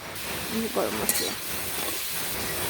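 Vegetables with ground spices (coriander, chili, turmeric and garam masala) fry in a pan, giving a steady, close sizzle that runs throughout, with a voice briefly audible in the middle.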